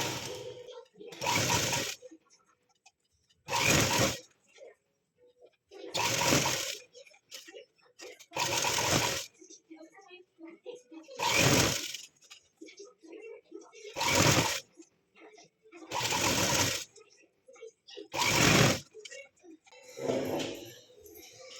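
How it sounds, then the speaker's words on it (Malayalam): A sewing machine stitches a long folded fabric strip in about eight evenly spaced bursts of rapid whirring, each lasting around a second. Quiet gaps between the bursts carry soft background sounds. "പിന്നെ നീളത്തിൽ നമുക്കതൊന്ന് അടിച്ചെടുക്കാം"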